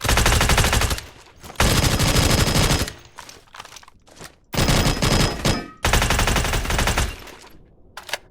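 Steyr AUG rifle firing in the Badlanders shooter game, loud sustained bursts of automatic fire broken by short pauses, several strings of rapid shots with brief gaps between them.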